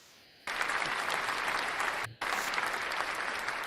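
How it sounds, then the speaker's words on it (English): A burst of applause breaks out after a short quiet lead-in, steady and dense clapping with a brief dip partway through before picking right back up, close and loud. "Yeah, round of applause."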